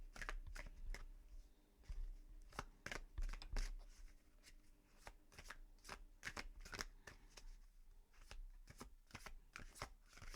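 Tarot cards are shuffled close up in a quiet room, producing repeated quick riffles and flicks in an irregular rhythm, soft and without talk.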